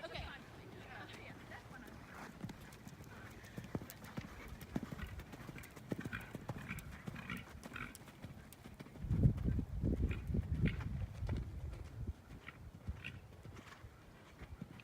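Hooves clip-clop at a steady rhythm as a horse moves around an arena during a hunt seat riding lesson, fairly faint, with an instructor's voice coaching at intervals and a louder stretch of hoofbeats near the end.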